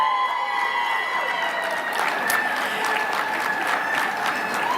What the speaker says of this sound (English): Big cheer.